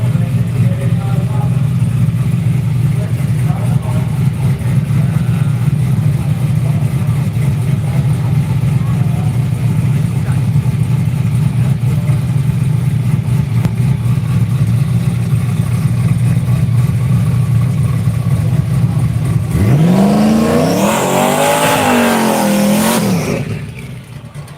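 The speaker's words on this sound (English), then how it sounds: "This is his compound car. Runs a turbocharger with a bit of nitrous to get it up on boost, and then run through a Vortex supercharger." Turbocharged compound drag race car using nitrous and a Vortex supercharger, at a radial drag racing event in Australia, idling loudly with a steady rumble for about twenty seconds, then revving hard and sweeping up in pitch before cutting off.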